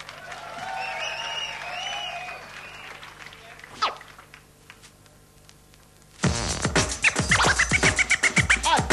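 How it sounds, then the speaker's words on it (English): A crowd at the 1992 DMC World DJ competition applauds DJ Pierre from Sweden, breaking into loud, dense clapping and cheering after a quieter stretch of turntable sounds and a brief scratch. "give him a round of applause, y'all"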